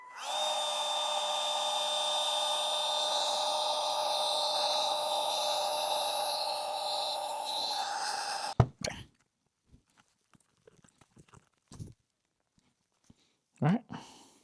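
A hot-air heat gun blows steadily on a fuel tank sending unit part from a square-body truck for about eight seconds, then stops, followed by a few sparse knocks and brief vocal sounds.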